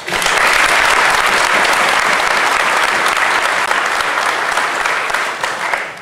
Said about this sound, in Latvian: Domāju, ka viņi arī ir pelnījuši šodien aplausus.